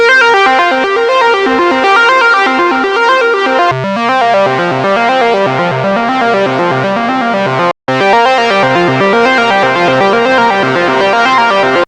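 A MIDI synthesizer patch plays a melodic line doubled by an octave-down transposed copy on a second track. The notes are bright, buzzy and sustained, running almost unbroken with one brief gap near the end.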